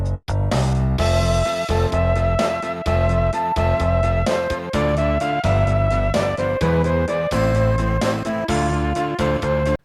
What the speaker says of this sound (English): It's actually the acoustic guitar.